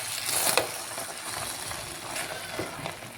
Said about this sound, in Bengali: এখন ডিম ভাজছি।